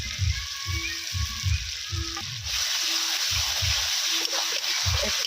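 Ginger garlic paste sizzling in hot oil in a home kitchen, a hissing fry that swells after a sudden addition, beneath low rhythmic thumps and a faint voice.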